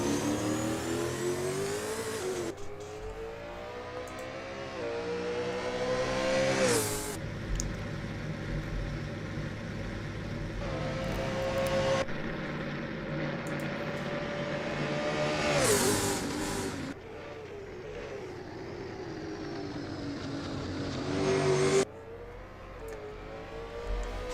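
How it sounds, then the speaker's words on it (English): A V8 Supercar, a Ford Mustang in a sim racing round at the Gold Coast, screams through gear changes at high revs, its engine note rising and dropping with repeated upshifts and a close pass. "Next car coming through."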